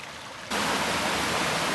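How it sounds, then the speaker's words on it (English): A waterfall in a forest rushes in with a loud, steady roar that starts abruptly and continues without pause, with no talk over it. "Well, I found the waterfall."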